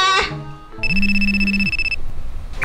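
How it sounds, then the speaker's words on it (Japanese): A telephone ringtone sounds in a children's play skit, a loud, steady electronic ring held for about a second over a low buzzing tone, preceded by brief toy-like beeps and tones. "あ、電話だ。"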